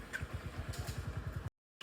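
A motorcycle engine runs close by with a fast, even chugging pulse of exhaust beats for over a second before cutting abruptly to silence, no talking over it.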